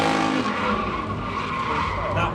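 Car tyres squeal continuously at a drifting display at a British motor show, a loud sustained screech with engine roar and crowd noise underneath.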